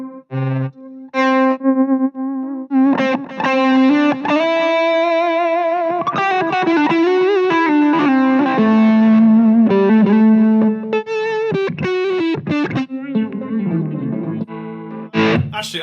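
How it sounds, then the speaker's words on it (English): An electric guitar through a Mooer GE100 multi-effects processor plays a saturated lead line with delay and reverb, sustained singing notes and bends ringing out loud and alone, with echoing tails between phrases. "Is there like a super saturated lead tone with a bit of delay and reverb?"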